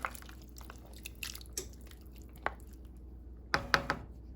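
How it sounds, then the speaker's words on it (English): Chicken bones and skin are stirred in a pot, giving quiet wet squishes and soft clinks scattered through the stretch, with a cluster of sharper knocks near the end. "I'm just going to stir that around."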